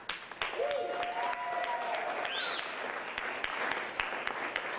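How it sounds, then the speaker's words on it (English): A talent show crowd claps together in a sustained round of applause, fairly close and even, with a few whoops and voices rising over the clapping. "Now let's have a round of applause"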